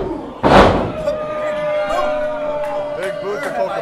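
A wrestler struck by a big boot kick in a wrestling ring during a match between two wrestlers: one loud, sharp slam, followed by ongoing crowd noise and a voice talking over it.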